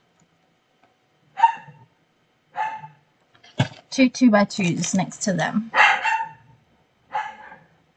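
A dog barks excitedly indoors in short bursts, separated by gaps, with speech overlapping the barks toward the middle.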